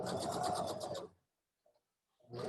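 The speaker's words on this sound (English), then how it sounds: "now we're just going to stitch around the edge, the top edge, stitching the inside and the outside together" A sewing machine stitches the top edge of a fabric stocking, joining its inside and outside layers. The rapid, steady whir runs for about a second, stops, then starts again close by.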